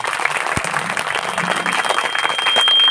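An audience at a Hindu satsang claps together in a dense, sustained round of applause that stays steady throughout and swells slightly toward the end.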